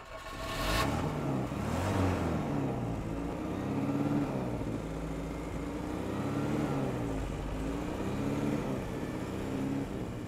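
A Citroen DS21 Pallas engine turns over and catches, then settles into a low, steady idle with a gentle rising and falling throb, close and continuous.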